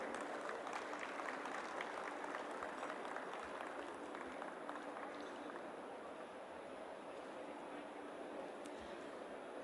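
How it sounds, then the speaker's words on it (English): Sustained applause from a large audience at the inauguration of the International Bharat6G Symposium, a steady dense wash of clapping that holds at an even level for the whole stretch with no voices on top. "A warm round of applause for this visionary contribution."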